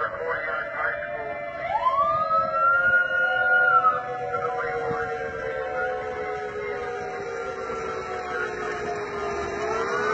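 Tsunami warning siren sounding in Kodiak, Alaska after an earthquake, a long rising and sustained wailing tone carrying over steady background noise, with a second sweeping tone starting early and holding throughout.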